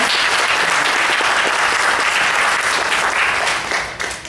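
Dense, loud applause from an audience after a dance performance at a community event, steady throughout and starting to taper in the final second.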